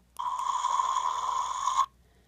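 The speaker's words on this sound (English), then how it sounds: "Now that's supposed to be a growl. It kind of sounds like he's snoring though." A Bratzillaz doll's toy pet gives an electronic growl that sounds like a steady buzzing snore, held for nearly two seconds and then cut off abruptly.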